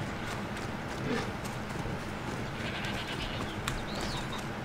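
A horse in Assassin's Creed Odyssey with faint hoof clip-clops against a busy, low outdoor game soundscape, with a few small bird-like chirps in the background.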